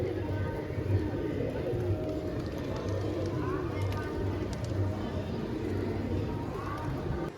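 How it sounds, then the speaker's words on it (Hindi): Low, repeated pigeon coos murmur beneath people talking and general outdoor bustle at Pashupatinath Temple in Kathmandu, Nepal. "ये देखो भाई कितने सारे कबूतर"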